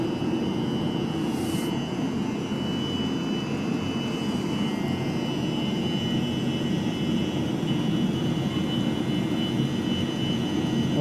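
A Webasto diesel heater runs in a garage with a steady low roar and whir, like a small jet engine, unbroken and fairly loud across the whole stretch, with no voices.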